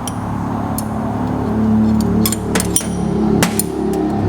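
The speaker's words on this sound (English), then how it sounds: "we could just stand them on the table and see the difference" Snap-on and GearWrench wrenches are stood upright on a table, giving a handful of sharp metallic clinks and taps close by over a low steady background hum, with no talk.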